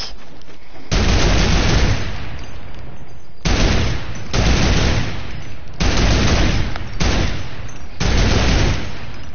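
Loud turret gunfire in a video game, fired in about six sustained bursts separated by brief pauses, each burst a dense rattling roar with nothing else audible.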